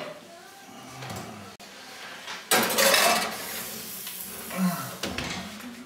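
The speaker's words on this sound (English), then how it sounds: "You just cover it up. And you just stick it in the oven." Dish clatter and cookware clinks while a crumble dish is covered and set into an oven: scattered knocks and scrapes, then a sharp metallic bang and rattle near the middle, followed by quieter shuffling handling.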